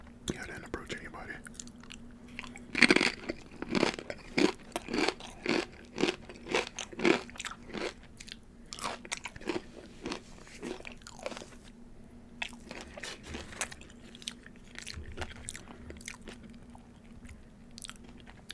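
Someone eats tortilla chips with nacho cheese up close: loud, rapid crisp crunches and bites in a steady chewing rhythm over a quiet background.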